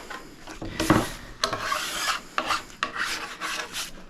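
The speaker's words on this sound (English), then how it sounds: "I put this file down the middle and I hear edges" A metal file rasps along ski edges in several firm, scraping strokes, close and loud, with short pauses between passes and no talking.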